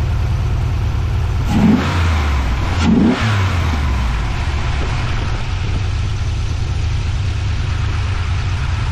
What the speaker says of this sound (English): I'm gonna go hop in it and give her a couple of revs and see how she sounds